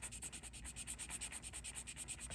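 A sterling silver pendant is scraped rapidly back and forth on a test stone for an acid test, a quick, even train of about fifteen close, faint scratching strokes with no talk.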